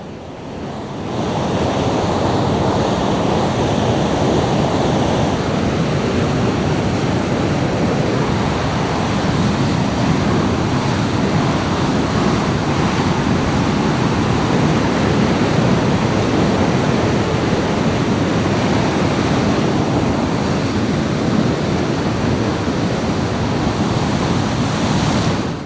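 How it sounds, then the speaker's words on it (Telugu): Water rushes through nine opened gates of the Himayat Sagar reservoir into the Musi river after heavy upstream rain, a loud, steady broadband roar that holds unbroken from start to finish with no voices. "దీంతో జలమండలి అధికారులు 9 గేట్లు ఎత్తి మూసీలోకి నీటిని విడుదల చేస్తున్నారు"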